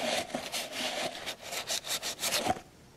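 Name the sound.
wire wheel on drill cleaning Ford flathead engine block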